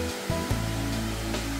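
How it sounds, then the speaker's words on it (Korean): Yongyeon Falls, a two-tiered waterfall with plunge pools in a rocky canyon at Juwangsan, pours with a steady, loud broadband roar throughout. "주황산의 용연폭포입니다"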